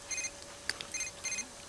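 Phone in The Sims 3 video game rings with a bright electronic chime, three short trilling bursts plus a sharp blip in between, clean and alone over a quiet background hum.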